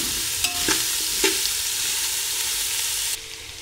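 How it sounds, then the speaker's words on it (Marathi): Chopped onion sizzles steadily in a hot pan for a sprouted-bean usal, with a few sharp stirring scrapes near the start before the frying drops a little quieter at the end. "आता यामध्ये कांदा परतून घेऊया."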